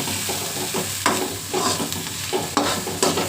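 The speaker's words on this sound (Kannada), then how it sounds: "ಈರುಳ್ಳಿ ಇಷ್ಟು ಫ್ರೈ ಮಾಡಿಕೊಂಡ್ರೆ ಸಾಕು" Onions fry in a pan for an egg and drumstick-leaf stir-fry, with a steady sizzle broken by several sharp scraping stirs about once a second, close and fairly loud.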